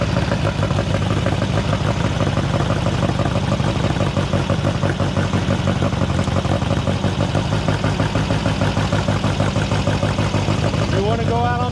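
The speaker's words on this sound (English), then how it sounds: "I knew I was going to like the sound of that engine" A Volkswagen dune buggy engine idles loud and close at a Circle Yer Wagons car gathering, a steady throbbing, clattering rumble that holds for the whole stretch, with indistinct voices mixed underneath.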